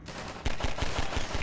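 Pistol fire in the Half-Life 2 video game, a rapid series of about six sharp, loud shots at an even rhythm after a brief lead-in.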